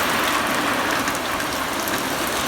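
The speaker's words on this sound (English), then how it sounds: "it's finally raining" Steady, dense rain pouring down, a continuous hiss of drops hitting surfaces close by, with no voices.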